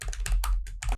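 Computer keyboard keys tapped in quick irregular bursts while entering PyQt5 code, close and fairly steady over one second, with no speech.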